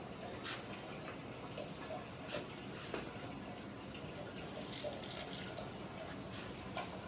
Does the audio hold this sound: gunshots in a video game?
no